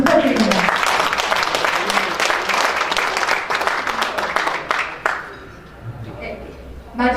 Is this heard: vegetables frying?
no